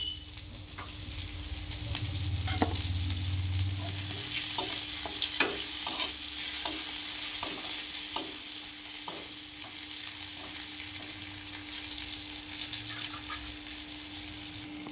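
Sliced onions and garlic fry in leftover fish-frying oil in a pan, a continuous close sizzle with repeated stirring clicks and scrapes of a spatula, steady and fairly loud, with no speech.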